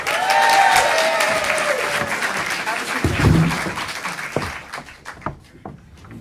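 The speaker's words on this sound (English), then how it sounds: "Another round of applause." An improv festival audience claps loudly, a dense burst that fades over several seconds into scattered claps while voices come through.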